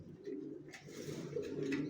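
Racer pigeons of Johnson line coo steadily inside a loft, soft low rolling calls repeating without pause at modest volume.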